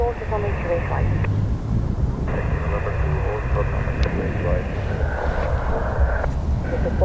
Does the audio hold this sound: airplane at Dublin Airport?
yes